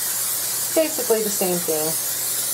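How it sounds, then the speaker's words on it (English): Cooking oil spray hisses steadily as it coats a baking pan for pecan pie brownies, a close, continuous spray with a person talking over it. "I'm going to spray it with my"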